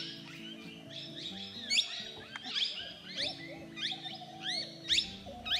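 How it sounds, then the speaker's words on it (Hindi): Birds call in the jungle of Bandhavgarh tiger reserve's Khitauli zone, a run of quick, sharp, rising chirps repeating close by over a low, steady rumbling hum. "पक्षियों की आवाज ने इस पूरे बैकग्राउंड को एक म्यूजिकल स्टेज बना दिया है।"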